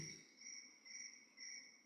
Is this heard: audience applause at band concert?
no